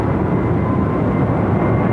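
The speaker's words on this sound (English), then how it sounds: "It's Qantas 7345 now, departing off to Melbourne, runway 16 right" Qantas flight 7345 departs Sydney Airport's runway 16 right at night, bound for Melbourne, with a loud, steady, close jet roar that holds without a break throughout.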